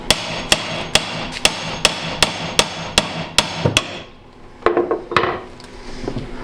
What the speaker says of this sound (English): Or maybe I'll just have to crowbar the other side.